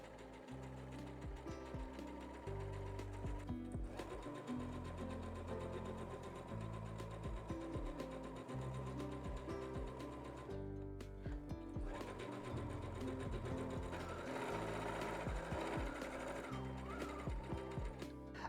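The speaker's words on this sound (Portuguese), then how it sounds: "vou pespontar aqui do lado do tecido estampado" A sewing machine topstitching alongside printed fabric on a kimono, running in a fast steady mechanical rattle with brief pauses, close and continuous, with no talking.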